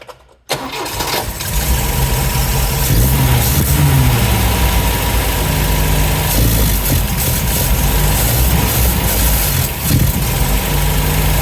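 MGB GT engine cranking and catching, then running steadily with the choke on, a loud close idle with uneven rhythmic pulsing and no talk.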